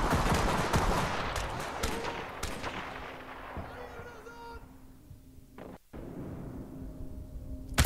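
Semi-automatic rifle fire in Call of Duty: Modern Warfare Remastered, a loud, fast string of close shots with echoing blasts, thinning out toward the end as someone talks over it.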